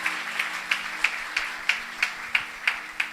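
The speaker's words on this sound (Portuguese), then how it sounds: "Uma salva de palmas para ele." Church congregation applauding at a Sunday evening service, heard as a sparse, regular clap roughly three times per second, moderately loud and with no talk over it.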